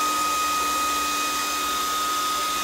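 A WhatsMiner M10 Bitcoin ASIC miner's cooling fans blow air in a steady, loud, continuous whoosh with a constant whine, close by and alone.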